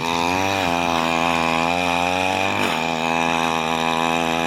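A brush cutter fitted with a metal blade instead of nylon line works very hard, dry soil. Its small engine drones loudly and steadily with a brief dip in pitch midway.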